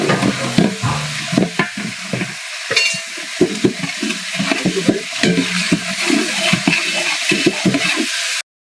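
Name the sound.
ginger paste frying in oil for sambar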